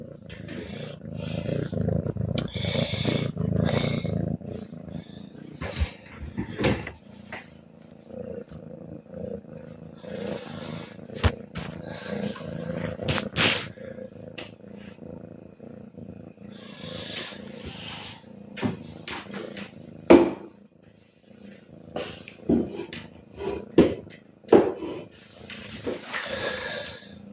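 A cat purrs close up in a low, rumbling rhythm, interrupted by scattered knocks and rustling noises.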